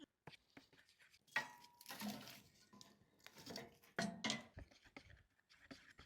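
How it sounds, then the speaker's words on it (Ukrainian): Quiet clinks and scraping of a spoon against a bowl as a marinade for ribs is stirred, in irregular bursts, close by. "все це гарно ми перемішуємо"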